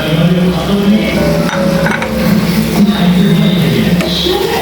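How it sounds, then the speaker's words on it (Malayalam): Fried prawns are stirred into a chicken curry in a pan, giving a loud, continuous scraping and bubbling sizzle up close, with a low background drone underneath throughout. "നന്നായിട്ട് മിക്സ് ചെയ്തെടുക്കാം."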